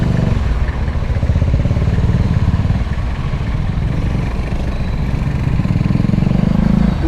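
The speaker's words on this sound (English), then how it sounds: "Look at the bikes going around here on the sidewalk." Motorcycle engines idle and rumble in gridlocked city traffic in Ortigas Center, San Juan City, Philippines, a loud, continuous close throb with clattering mechanical texture and no clear pauses.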